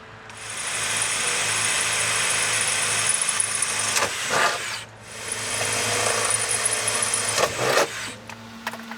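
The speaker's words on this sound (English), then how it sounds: "I just drill them out." A power drill grinds steadily through the knockouts of a metal electrical box, loud and continuous, with a brief pause midway before drilling resumes and cuts out near the end.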